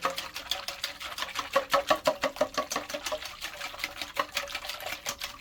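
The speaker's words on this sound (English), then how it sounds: "We're gonna whisk that again." A whisk beats a bread dough mixture in a bowl, a fast steady run of close, light clicking and tapping strokes.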